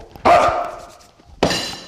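A person imitates a dog with two loud, sharp barks, about a second apart, close and alone.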